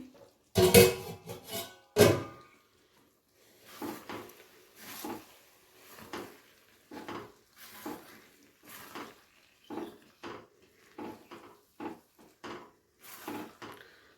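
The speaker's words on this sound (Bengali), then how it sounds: "প্রায় 5 মিনিট হয়ে গেছে, আমি ঢাকাটা খুলে দেখে নিচ্ছি।" A lid comes off a pot of cooking soybeans with two close, loud clattering knocks, followed by a string of softer, evenly spaced bumps and taps in a quiet kitchen.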